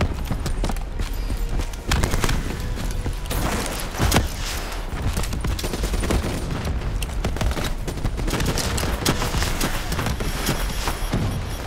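Dense gunfire in the Call of Duty Black Ops 3 mission Demon Within, rapid overlapping shots and heavy bursts packed together throughout, with a few louder impacts standing out.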